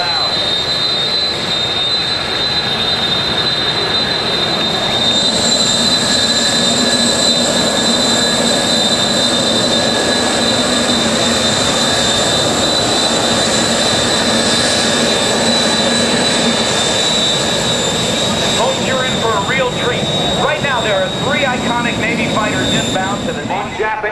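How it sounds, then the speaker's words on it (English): MS-760 jet aircraft passing close at the 2010 NAS Oceana airshow, its loud, piercing turbine whine sustained throughout, with crowd noise and an announcer's voice underneath. "put your fingers in your ears as the MS-760 comes back"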